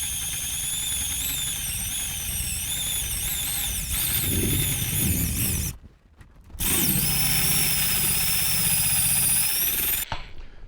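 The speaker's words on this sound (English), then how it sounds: "we're going to be hunting for a speed where the saw really likes to cut well but not generate a lot of sparks" A variable speed drill drives a hole saw through steel roll cage tube on a Jaguar XJ6 race car, a loud continuous grinding whine with shifting pitch that cuts out briefly and then resumes.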